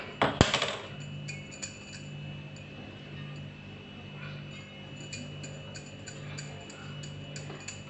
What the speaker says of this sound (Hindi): कढ़ाई को गैस पर रखकर गैस ऑन करेंगे।